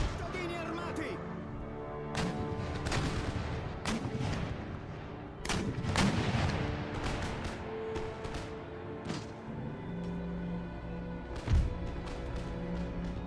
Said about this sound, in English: They've been bombarding my infantry up there for a while.